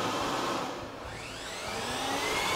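A vacuum cleaner powered from a 100Ah LiFePO4 battery runs with a loud, steady whine, its pitch dipping briefly and then rising back, with no talk.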